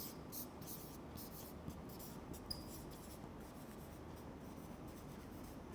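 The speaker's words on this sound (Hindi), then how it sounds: "यहाँ पे लिख दें" Marker or chalk scratching steadily across a board while an answer is written out during a math lesson, a faint continuous scraping with small taps, no voices.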